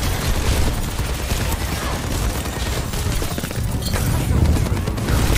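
Dense, continuous gunfire and explosions from a hero shooter video game, Overwatch, fill a chaotic overtime team fight. The firing stays loud and unbroken the whole way through, with no talk.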